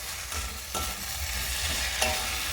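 A spoon stirs and mixes cauliflower chop filling in a hot pan, with steady scraping and a soft sizzle over a constant frying hiss, close and fairly loud, with no talk.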